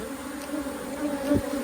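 Angry honeybees buzz inside an opened hive box during a summer check, a close, sustained droning hum that swells near the end as one bee passes right by.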